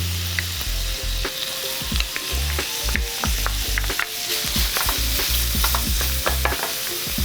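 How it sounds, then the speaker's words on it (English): Onions frying in a pan for homemade meatballs, a loud continuous sizzle with occasional stirring scrapes, close and steady. "I'm ready to add my onions to the pan"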